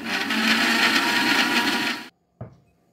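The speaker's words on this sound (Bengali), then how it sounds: "এবার এটাকে আমি মিক্সিতে পিষিয়ে নেব।" Mixer grinder whirring loudly as it blends cucumber with water for sharbat, a dense steady roar for about two seconds that cuts off abruptly, followed by a single short clunk.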